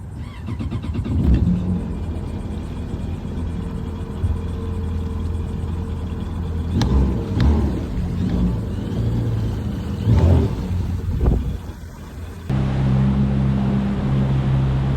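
Yamaha FX SVHO WaveRunner engine running during break-in, a continuous low droning rumble with waves of throttle variation and water noise, steady and close throughout.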